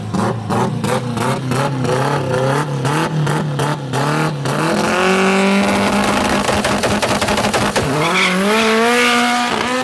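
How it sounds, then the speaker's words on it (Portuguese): A Subaru 4x4 race car does a burnout to clean its tyres, the engine revving hard in rapid pulses before settling into a loud, sustained screaming drone with rising pitch and tyre squeal, close and continuous. "burnoutzão"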